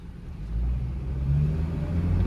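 A Honda City sedan running on CNG accelerates, its engine droning and building in pitch and loudness as it pulls, heard from inside the car with no talking.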